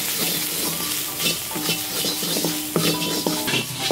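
Beef boti pepper fry sizzling in a pan with masala and pepper, a steady close frying hiss broken by scraping stirs and clinks of a spoon against the pan.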